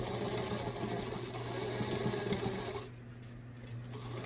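A sewing machine stitching the front of a lavender off-the-shoulder dress, a steady close mechanical whir that stops near the end, leaving quiet room tone.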